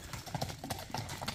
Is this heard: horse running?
yes